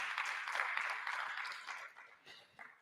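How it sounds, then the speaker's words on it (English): Audience at a college public lecture claps, a soft, distant patter of applause that thins out toward the end, with a voice faintly mixed in. "please give them a round of applause."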